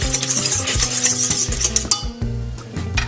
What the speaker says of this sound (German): den Zucker und eine Packung Hefe. Das rühre ich jetzt ein bisschen um